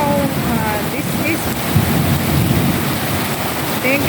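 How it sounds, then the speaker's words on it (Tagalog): Heavy rain pours steadily with a low rumbling undertone of thunder, and faint voices and chirps come through now and then. "Malakas ang ulan, Diyos ko po."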